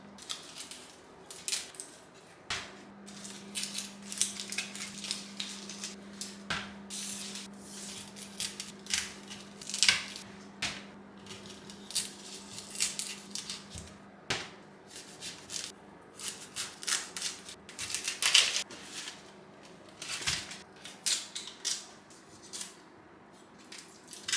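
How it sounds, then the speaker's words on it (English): A knife chops through large onions on a cutting board, irregular close taps and crisp slicing crunches scattered throughout, with a steady low hum in the background. "I first gonna divide this onion in half,"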